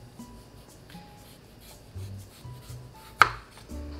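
A cucumber being peeled by hand, soft, quiet scraping strokes repeated in a loose rhythm, with one sharper knock near the end, close and without talk.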